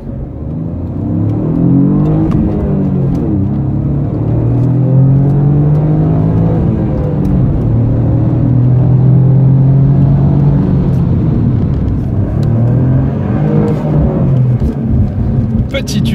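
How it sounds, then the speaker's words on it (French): Alfa Romeo Giulia Quadrifoglio engine, a loud sporty car, drones steadily at close range with rising and falling pitch sweeps as it accelerates, continuous for the whole stretch with possible talk mixed in. "qu'on n'entend plus le bruit du moteur, surtout que le moteur est assez bruyant"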